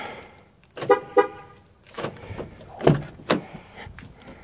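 A 2008 Toyota Tacoma being unlocked, with two quick horn chirps followed by clunking lock and door sounds, close by and with no talk.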